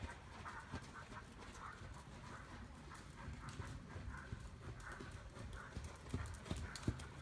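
Horse hooves clip-clop on an arena surface during a riding lesson, a steady rhythmic beat of footfalls at moderate distance with a few louder thuds near the end.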